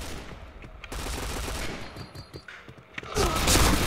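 Rapid automatic gunfire rattles in a first-person shooter match, dense bursts with a louder volley near the end, no talk over it.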